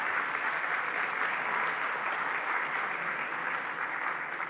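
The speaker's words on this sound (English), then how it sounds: "A big round of applause, please, for our next speaker." A conference audience breaks into sustained applause for the next speaker, a dense, even wash of many hands clapping that holds steady and eases slightly toward the end.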